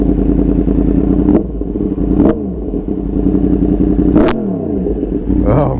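A Yamaha MT-10 motorcycle engine revving loudly and close: a steady throaty drone with several sharp throttle blips, each followed by a falling pitch as revs drop.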